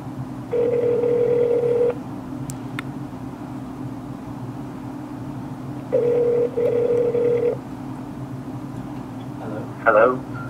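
A Mac places an outgoing phone call through an iPhone, giving steady ringback tones in two long bursts separated by a pause, then a short chirp of call connection over a constant low hum.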